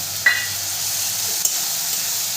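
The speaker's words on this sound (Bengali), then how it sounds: "দিয়ে ভালো করে কষিয়ে নেব।" Spices for Bengali ghugni sizzle in a pan during stir-frying, a steady close hiss with two brief sharp crackles, and no talking.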